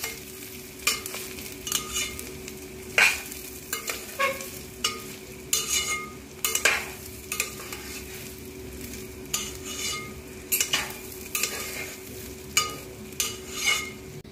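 Rice with cashews and raisins is stirred in a pan over a low flame, with a regular series of sharp spoon scrapes and clinks over a faint sizzle and a steady background hum.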